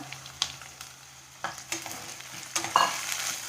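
Onion frying in a pan for vegetable pulao, with carrot and peas to follow: a steady low sizzle broken by a few sharp spoon scrapes and clinks against the pan, close and without talk.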